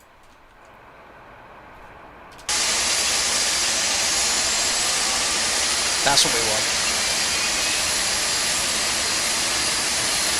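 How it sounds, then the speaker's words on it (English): Engine number one of a Felis 747-200 in the X-Plane 12 flight simulator starts up, a sudden loud broadband roar that jumps in after a quiet stretch and holds steady, with a brief rising whine partway through and a voice speaking over it. "Starting engine number 1 now."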